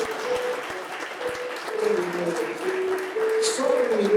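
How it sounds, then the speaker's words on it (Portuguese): Applause from a church congregation at a Brazilian Portuguese-language conference in Japan, steady clapping through the whole stretch with a voice speaking and tones running over it. "Você pode aplaudir o Senhor mais uma vez?"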